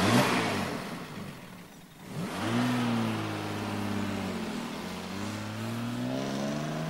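A car engine revs up close and loud, its pitch rising as it accelerates, dipping, then climbing again before holding a steady drone as the vehicle pulls away.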